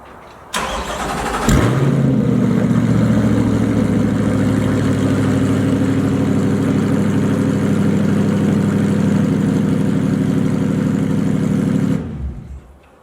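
A 2020 Corvette C8 with a Soul Performance exhaust cranks on a cold start, fires up with a loud burst, then settles into a rough, throaty high idle close by before shutting off.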